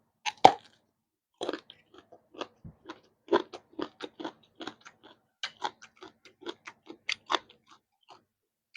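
Crunchy bites and chewing of crispy fried pork tail papaya salad, close and dry, in irregular clusters of crisp crackles with short pauses between mouthfuls.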